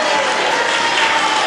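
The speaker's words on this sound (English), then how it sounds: "Not sure why the crowd's cheering for the loser." A wrestling video game's arena crowd cheers and applauds in a steady, loud roar, heard briefly and continuously with a voice faintly underneath.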